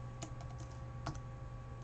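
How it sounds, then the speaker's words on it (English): A computer keyboard typed on in a quiet room, a few soft scattered key clicks, close but faint, over a low steady background hum. "Let me just type it."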